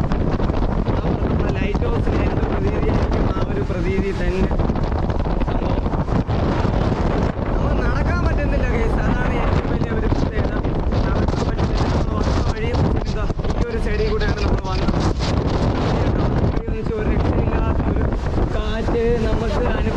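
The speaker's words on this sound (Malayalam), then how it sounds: "മുകളിൽ കയറുന്ന സമയത്ത് ഒരു രക്ഷയില്ലാത്ത ഒരു കാറ്റ് അനുഭവപ്പെടുന്നുണ്ട്" Strong gusty wind roars across the microphone atop the Kanyakumari view tower by the sea, a loud, constant rush throughout with a voice speaking underneath.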